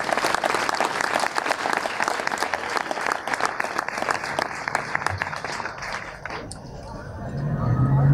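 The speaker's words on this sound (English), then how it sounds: "Please, everyone, a round of applause for all the veterans here today." Crowd at a 2019 Veterans Day ceremony in Brentwood gives the veterans a round of applause, brisk dense clapping that thins after about six seconds as murmured voices and a speaker's talk take over.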